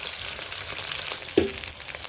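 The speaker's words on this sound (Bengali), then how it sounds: "মাছগুলো ভেজে" Pieces of rohu fish fry in hot oil for a Bengali fish curry, giving a steady close sizzle with one brief clink partway through.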